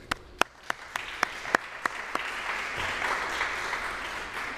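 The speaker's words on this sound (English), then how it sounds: "Let's give our candidates a round of applause through the screen" At the Illinois FFA State Convention election session, a few sharp, separate claps ring out before the crowd swells into sustained, dense applause for the candidates.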